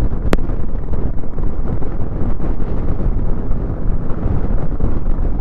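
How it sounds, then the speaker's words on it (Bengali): Strong wind buffets the microphone on a high Ladakh mountain pass during a motorbike trip, a loud continuous roar with one sharp click near the start. "বহুত হাওয়া দিচ্ছে ভাই।"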